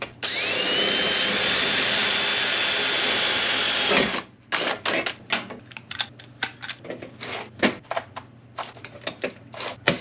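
An Eastwood HotCoat PCS 250 powder coating gun spraying in a steady airy hiss for about four seconds, then cutting off into a run of sharp irregular clicks and taps, close by.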